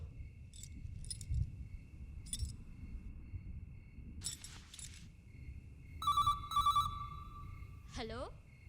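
A film-scene telephone rings in two clear bursts of trilling electronic tone, with soft chirping and rustling sounds and background murmur before it.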